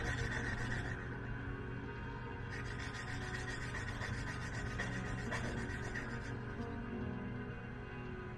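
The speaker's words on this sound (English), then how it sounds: "run this across the nail file with different grits very quickly" Steady, continuous rasping as a small hard plastic model-kit part is rubbed quickly back and forth across a nail file, close and even in level throughout.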